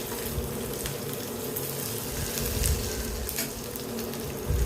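Onions frying in a pan for ragi upma, with a steady close sizzle and crackle throughout and no voices.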